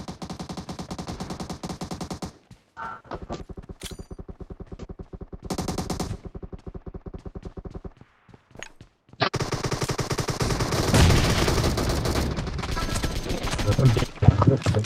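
Rapid automatic gunfire in a multiplayer video game match, loud bursts of machine-gun fire broken by short pauses, then a dense, sustained barrage near the end, with no talk over it.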